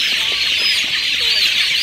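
Young chicks, about 24 days old, cluck and peep in a dense, continuous chorus while being scooped up by hand, the birds close and loud with no talking.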